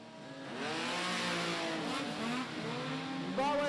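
Modified production race cars at Kingaroy Speedway scream past under full throttle, their engine notes rising and falling as they pass. The loud, continuous roar holds throughout, with another car surging louder near the end.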